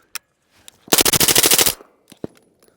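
A short, fast burst of automatic fire from an MP5 during a function test at a rifle class, a tight rapid string of sharp cracks lasting under a second, with a few isolated shots before and after.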